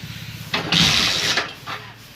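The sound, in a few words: Hero Splendor BS6 motorcycle engine starting and idling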